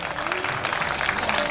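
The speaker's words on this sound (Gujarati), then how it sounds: "તો એમના માટે પણ એક તાળીઓ" Steady applause from an audience at a family Bhagavad katha gathering, a dense continuous patter of many hands held throughout.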